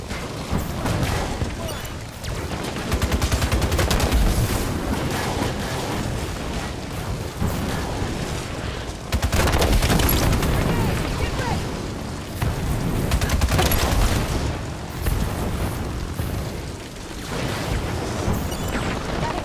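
Hostile gunfire in Halo 5 rattles in long loud bursts of automatic fire mixed with booming blasts in a large-scale battle, with brief lulls between volleys and faint voices underneath.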